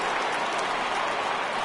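A packed crowd of over forty thousand cheers at a Padres–Cubs baseball game in San Diego, a dense, continuous roar of voices and clapping with no single voice standing out.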